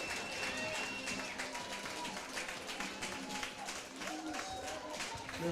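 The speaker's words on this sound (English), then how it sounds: "So Bass is going to leave to a big ovation from the Midland crowd." A Midland crowd at a Region V tournament baseball conference championship gives a departing pitcher an ovation, heard as faint, distant, sustained clapping and cheering with muffled voices underneath.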